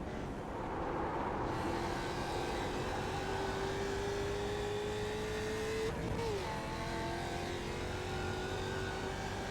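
Mustang production race car in the iRacing sim at Ledenon, a sustained engine note climbing in pitch under load, a quick dip at a gear change, then steadily rising again, loud and close.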